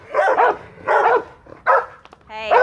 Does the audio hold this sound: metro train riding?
no